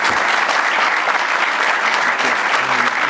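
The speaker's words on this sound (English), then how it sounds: "I want to first applaud our presenters for their excellent presentation." An audience at a panel discussion applauds the presenters with dense, steady clapping that holds at an even level throughout, with no breaks and no voices over it.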